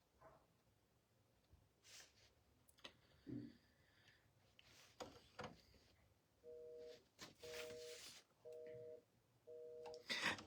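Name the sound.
telephone busy signal tone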